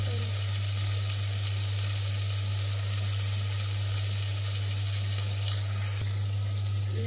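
Steady, loud oil sizzle of garlic and ginger paste frying in a pan on a home stove, continuous with a faint background hum and a slight drop in intensity near the end.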